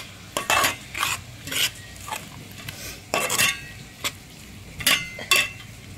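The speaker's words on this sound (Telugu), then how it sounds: "ఇది కూడా కలిపేసుకోవాలి." A spoon stirs fish curry mixture with freshly poured peanut oil in a pan, producing short clinking, scraping bursts at irregular intervals with quiet gaps between, close by and moderately loud.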